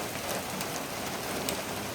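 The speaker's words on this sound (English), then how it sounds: "it's raining really hard outside" Heavy rain pours down outside a garage during a car transmission rebuild, a constant dense hiss of drops hitting surfaces, steady and even without pause.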